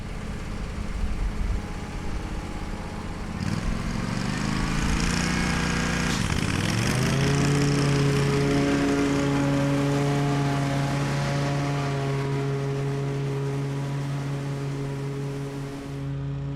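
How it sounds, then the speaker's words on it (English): A large lawn mower cutting thick dead grass down to its lowest height, a steady loud engine drone that dips briefly then settles into a sustained hum throughout, no talk. "I'm actually mowing as short as this mower can go"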